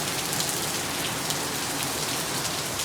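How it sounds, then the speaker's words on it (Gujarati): Steady, dense rain pours down continuously around a home during rainy weather, a constant hiss of drops on surfaces with no voices. "જો આટલો સરસ વરસાદ પડે છે"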